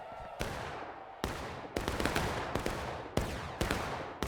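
Musket volleys ring out in the American Civil War game War of Rights during a battle on Washington Street: about seven sharp, loud cracks at irregular intervals, each trailing into a long echoing rumble that overlaps the next.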